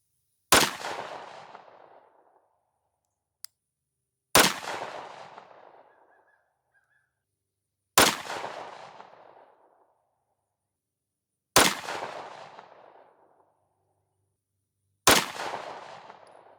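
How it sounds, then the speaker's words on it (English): Five loud, sharp pistol shots from a Glock 43X firing Speer Gold Dot 9mm 124gr +P rounds off a rest, evenly spaced about three and a half seconds apart, each with a decaying outdoor echo. "So first, 5 rounds through the 43X."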